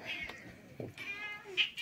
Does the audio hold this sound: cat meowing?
yes